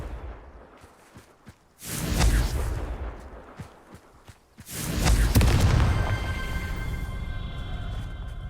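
The Confringo fire spell in Hogwarts Legacy lets out two heavy booming blasts a few seconds apart, each with a roaring whoosh and a lingering crackling tail.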